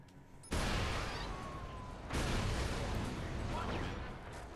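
A deep, loud blast erupts suddenly in the video game Watch Dogs, followed by a second heavy boom that rumbles and lingers, with no speech.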